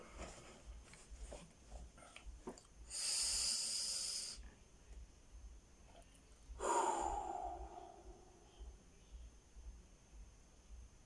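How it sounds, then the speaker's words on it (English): Two deep, slow breaths taken close to the microphone, a long airy inhale and then a breathy exhale a few seconds later, over quiet background with no talk. "when you take deep breaths such as these"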